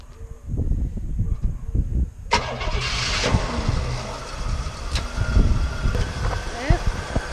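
A 1976 Cadillac Eldorado barn find cranks and then fires up. A quiet stretch with people talking gives way to a sudden broadband burst as the engine catches and settles into a rough, rumbling run up close.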